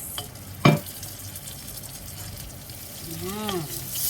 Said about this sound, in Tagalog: napiprito na siya sa mantika, ilalagay na natin yung ating talong